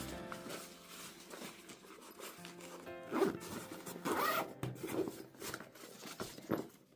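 Zipper being pulled open and closed on the small carrying bag supplied with a Dnipro-M DTI-200 cordless compressor, several quick close-up zips in an irregular rhythm, alone without voices.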